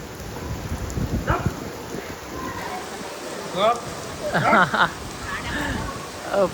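Steady rain hisses in the background while people talk and shout over it nearby.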